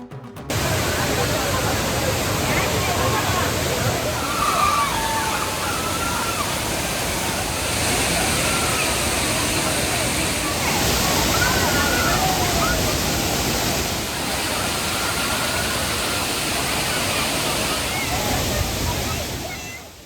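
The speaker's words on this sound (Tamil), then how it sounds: "குமரியின் குற்றாலம் என்று அழைக்கப்படும் திருப்பரப்பு அருவிக்கு சுற்றுலா பயணிகள் படையெடுக்க தொடங்கியுள்ளனர்" Thirparappu waterfall in Kanyakumari district, with tourists bathing beneath it: a dense, unbroken roar of falling water that holds steady throughout, with a voice talking over it.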